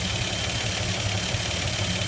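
A 1954 Chevy 3100 pickup's six-cylinder Offenhauser engine with dual carburetor manifold idles steadily, a continuous low rumble with an even pulsing beat, close and fairly loud, with no talking.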